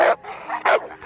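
An American Bully barks close by in two loud, sharp bursts with a softer whiny yip between them, at a gathering of bully dogs.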